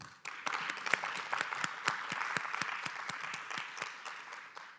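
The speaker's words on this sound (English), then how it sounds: "a big round of applause, please." Audience applause at a regional symposium: dense, sustained clapping from a crowd with many sharp individual claps, steady and fairly loud throughout before tapering slightly at the end.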